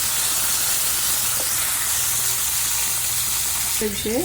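Hot oil sizzles steadily in a pan, about to be used for a tomato chutney, a loud continuous frying hiss that fills the whole stretch, with a few brief clinks and a short scrape near the end.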